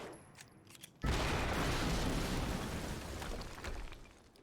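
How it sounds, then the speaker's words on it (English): An explosion goes off in the video game Quantum Break, a sudden loud blast after a quiet second that rolls into a sustained, crackling roar and slowly fades. "HQ, we just heard an explosion near the harvest."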